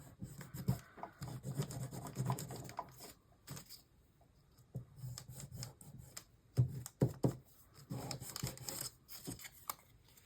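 Neocolor II wax crayons scraped across art journal paper, soft irregular rubbing and scratching strokes in uneven bursts with short pauses, close and quiet.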